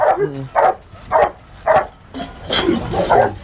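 A young dog at a guard dog training kennel barks loudly and repeatedly, about six sharp, evenly spaced barks close by, the last few running together.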